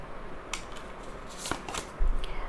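Tarot cards are shuffled and drawn from a deck in a few brief, close riffles and slides, with a louder rustle near the end and no speech.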